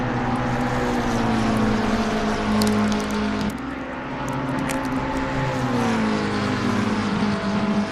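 Race cars at the Spa 24 Hours endurance event roar past in a steady, loud engine drone with pitch shifting as they jostle for position, a brief dip midway before the noise builds again.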